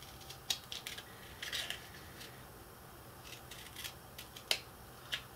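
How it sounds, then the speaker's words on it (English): Scissors snip paper for a Christmas village church model, a series of quiet crisp cuts at irregular intervals, close and faint against a soft background hiss. "go for it with your scissors and take your scissors right from that corner"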